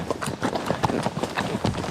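Horse hooves clip-clop in a quick, steady rhythm along a mountain trail, close and clear.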